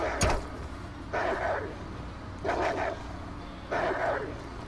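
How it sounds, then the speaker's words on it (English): Dog or wolf barks in a zombie video game, sounding as three evenly spaced bursts of barking a second apart over a steady low background hum, with a faint sharp noise at the start. "I think there's a dog near me."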